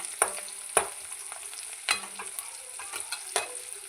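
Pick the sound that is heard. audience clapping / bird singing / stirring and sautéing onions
stirring and sautéing onions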